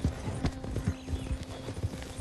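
Horses in the Western video game Red Dead Online clip-clop steadily at a walk, hooves thudding in an uneven rhythm, with a short whinny mixed in among the footfalls and no talking.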